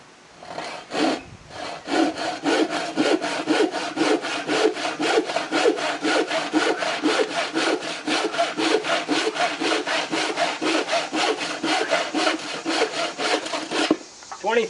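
A new DeWalt handsaw cuts through lumber in a long run of steady, evenly paced push-and-pull strokes, loud and close, with no talking.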